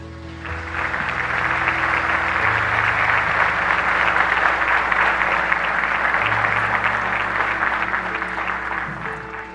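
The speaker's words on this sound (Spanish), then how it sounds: "como ahora provocó un aplauso lleno de emoción" A full audience breaks into sustained, emotional applause for a papal nuncio speaking about the beatification of Dr. José Gregorio in Venezuela. The steady, dense clapping lasts the whole stretch over a faint low musical hum.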